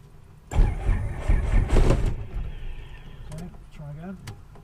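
A Robinson R22 helicopter engine cranking and catching at startup, a loud low rumbling burst that settles into a lower steady running hum, with people talking in the cockpit.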